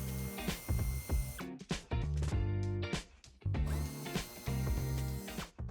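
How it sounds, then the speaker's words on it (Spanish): Screws being backed out of the plastic trim covers on a 2015-2019 Mercedes-Benz B-Class (W246) with a ratcheting hand tool, giving busy repeated clicks and clattering bursts that sound close and fairly loud, with brief pauses between runs and no talking. "Retiramos los protectores plásticos de las anillas, los 2 tornillos,"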